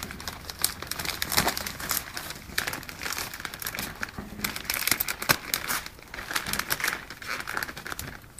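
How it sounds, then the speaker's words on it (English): Tape is peeled off a plastic vacuum infusion bag, giving close, continuous crinkling and crackling with sharp ripping bursts as the film flexes and the adhesive lets go. "Taking the tape off,"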